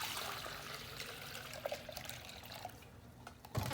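Water is poured from a sprayer jug into a small mixing cup outdoors, giving a faint, brief trickling splash with a soft gurgle near the end.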